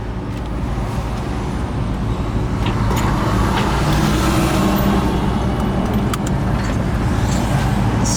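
A steady, loud low rumble of a totaled 2010 Toyota Corolla's engine running, heard from inside the car as an even drone with no breaks and no talking.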